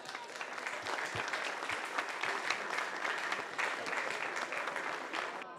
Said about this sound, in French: Mesdames et messieurs, je vous demande d'applaudir les bénévoles.